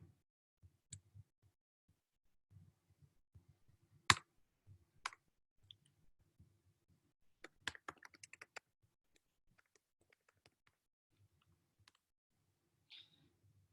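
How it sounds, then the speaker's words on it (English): Typing on a computer keyboard while entering a package name in RStudio, with sparse, irregular key clicks and short clustered bursts, a few louder taps, close and quiet with no talking. "when you start typing in the name of the package"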